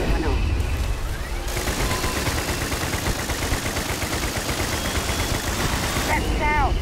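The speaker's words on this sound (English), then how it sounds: "concentrate fire! Shoot! Shoot!" Sustained, close gunfire rattles on for several seconds in the sci-fi video game Starfield, a dense fusillade of rapid shots with a steady, heavy roar throughout.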